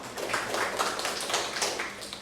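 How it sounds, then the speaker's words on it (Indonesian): Children applaud in a classroom, a brief burst of quick, uneven claps of moderate loudness that keeps steady for a couple of seconds. "Beri tepuk tangan."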